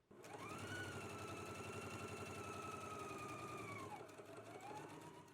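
A sewing machine runs steadily for about four seconds, stitching a long seam along a fabric strap for a toddler garment, with a fast even mechanical whir, a brief slowdown near the end, then a short restart.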